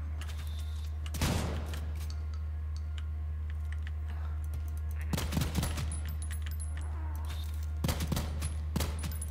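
Gunfire in the indie roguelike shooter Sulfur: three separate bursts of rapid shots, spaced a few seconds apart, over a constant low electrical hum, with no talking.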